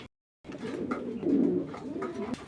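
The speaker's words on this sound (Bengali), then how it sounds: "দেখেন ভাই পুরা খাঁচা দাপায় বেড়াইতেছে মার্শাল্লাহ অরিজিনাল বাগদাদি হুক" Baghdadi racing pigeons in a cage at a farm coo softly and repeatedly, with brief wing flutters, close and fairly quiet, no talking.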